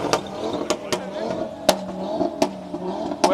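A car at a large car meet in northern France revs and accelerates amid a crowd, its engine note rising under frequent loud clatters and nearby chatter.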